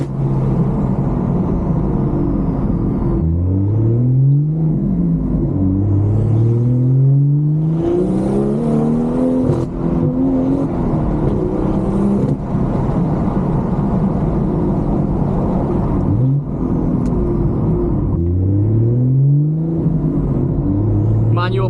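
A 440 hp BMW M240i with a manual gearbox and traction control off revs and accelerates hard through several gears, the engine note climbing and dropping with each shift, loud and close throughout, with a voice speaking over parts of it.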